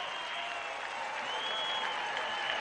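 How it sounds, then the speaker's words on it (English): At a 2011 college football game between Montana State and Northern Colorado, the stadium crowd applauds a comeback, producing a distant, even wash of clapping and crowd roar that holds steady without pause. "The crowd enjoying the comeback."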